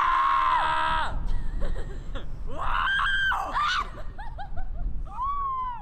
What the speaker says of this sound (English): let's just scream and get our rage out right now